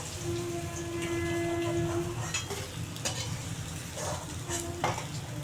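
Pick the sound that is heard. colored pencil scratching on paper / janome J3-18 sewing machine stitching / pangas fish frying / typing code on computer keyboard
pangas fish frying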